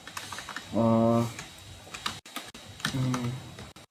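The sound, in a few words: typing on a computer keyboard into Excel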